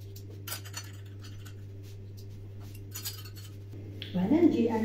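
A metal ladle clinks and scrapes against a dish while food is portioned out for a square semolina pizza, a short clatter near the end over a quiet, steady background hum.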